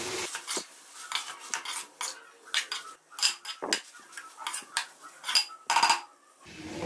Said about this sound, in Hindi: अब हम अपनी स्पैगेटिस जो है वो इसके अंदर ऐड करते हैं। अब हम इनको अच्छे से मिक्स करते हैं।